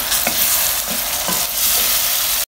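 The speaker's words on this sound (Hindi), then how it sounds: "लहसुन अदरक भी डाल के इसको हम 1 से 2 मिनट तक भूनेंगे प्याज के साथ" Crushed garlic and ginger frying with onions in a pan, a steady loud sizzle with soft periodic stirring scrapes, no voices.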